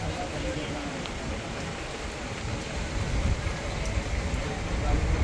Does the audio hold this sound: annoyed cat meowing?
no